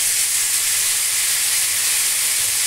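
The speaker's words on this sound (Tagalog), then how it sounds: "Ilagay yung aking repolyo." Cabbage dropped into a hot pan for lumpia, a loud continuous sizzling hiss, steady and close with no talking.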